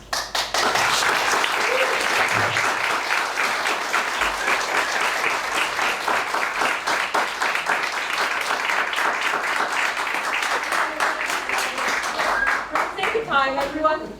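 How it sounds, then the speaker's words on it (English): Audience applause at a New York State Assembly primary debate, sustained rhythmic clapping from many people held steady for over ten seconds, then a voice begins speaking near the end. "if you could please hold the applause until the end"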